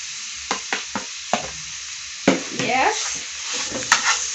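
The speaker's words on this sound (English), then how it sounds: "when the pan is mediumly heated, we now put in our minced meat" Minced meat for homemade samosa hits a lightly oiled, medium-hot pan, with a few sharp taps of the meat going in and then a rising close sizzle with scraping stirs; a brief word is spoken.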